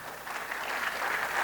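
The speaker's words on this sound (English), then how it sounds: "Can you clap for both of them?" Applause from the audience at an annual lecture and fellows' induction ceremony, a broad steady patter of many hands, moderate in loudness and slightly swelling, with no speech over it.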